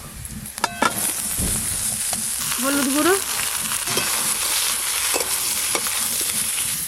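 Ridge gourd frying with chopped onions in a pan gives a loud, steady sizzle with stirring scrapes and clatter; someone speaks briefly over it.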